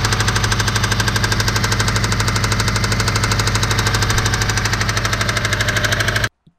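A running Subaru EJ255 engine with rod knock, the rod end beating on the crankshaft, knocks with a rapid, steady metallic rhythm, loud and continuous, then cuts off abruptly at the end.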